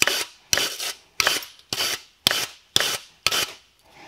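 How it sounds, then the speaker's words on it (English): Rhythmic back-and-forth rubbing strokes, about seven in four seconds, as front brake parts from an Opel/Vauxhall Corsa C are wiped down after a heavy spray of brake cleaner; close and steady, with no talking. "put a lot of brake cleaner on there, and start wiping."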